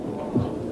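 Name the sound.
heartbeat sound effect in movie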